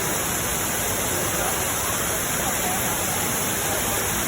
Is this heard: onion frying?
no